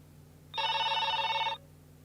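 An electronic telephone bell on a Thai phone-in radio show rings once in a steady trilling burst of about a second, fairly loud and close, over a low background hum, with no talk.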